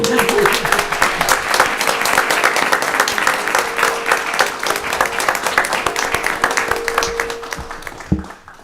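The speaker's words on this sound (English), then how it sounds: "Can we give a round of applause to our retirees?" A room of people at a college governing board meeting applauds retirees, with dense, steady clapping that carries on for about eight seconds before tapering off quickly at the end.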